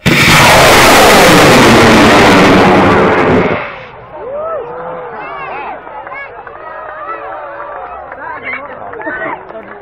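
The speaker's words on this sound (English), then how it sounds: "These are high-power rockets." High-power model rocket launching at a public launch event: a loud, harsh roaring blast for about four seconds that cuts off, followed by excited crowd chatter and whistles.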